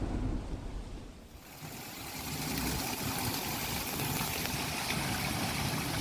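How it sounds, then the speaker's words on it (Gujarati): Heavy unseasonal rain driven by strong wind falls over rural farmland near Gondal in Rajkot district, a dense, continuous roaring wash that swells after a brief dip and stays loud throughout. "ગોંડલના ગ્રામ્ય વિસ્તારમાં ભારે પવન સાથે વરસાદ પડી રહ્યો છે"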